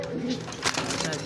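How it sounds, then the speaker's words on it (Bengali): Local Rasgolla pigeons in tiger colouring give a brief low coo close by, partly under a man's speech. "টাইগার কালার মধ্যে আমাদের দেশি রাসগোল্লা কবুতর"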